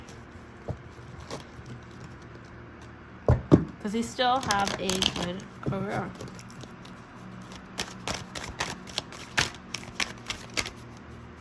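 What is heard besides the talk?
shuffling a deck of cards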